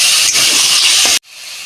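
Potatoes and masala for a Bengali rui fish curry sizzle loudly in a pan as a little water hits them, a strong steady hiss that cuts off sharply to a quieter simmer near the end.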